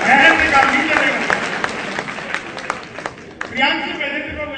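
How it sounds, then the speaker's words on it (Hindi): Audience applause at a comedy poetry gathering for the Maharaja Agrasen Jayanti festival: loud, fairly close clapping that rises and thins in scattered claps, then swells again toward the end. "देखो समझ में आए तो ताली वाली साथ में बजाया करो"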